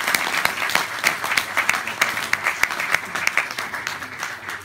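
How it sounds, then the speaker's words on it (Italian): An Italian audience applauds warmly at a presentation, a continuous patter of many hands with distinct individual claps punctuating the steady roar. "Grazie, un applauso."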